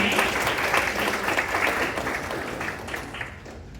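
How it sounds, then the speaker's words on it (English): A crowd at a student pitch competition gives a dense round of applause, loud and continuous at first before gradually tapering off over a few seconds. "Let's give all the students one more round of applause."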